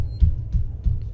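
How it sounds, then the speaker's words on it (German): An alien's heavy footsteps moving through a ventilation shaft in the video game Alien: Isolation: three dull, booming thuds, evenly spaced and resonant, with nothing else around them. "Also man hört es tatsächlich, wenn es draußen ist, hörst du so einen massiven Fußritt"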